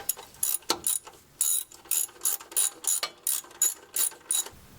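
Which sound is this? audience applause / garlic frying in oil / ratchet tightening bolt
ratchet tightening bolt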